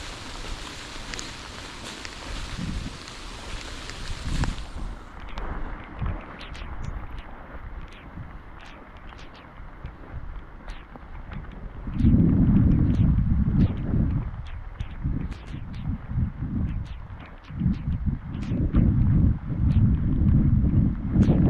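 Heavy typhoon rain pours steadily alongside a low rushing of floodwater, growing louder and denser partway through.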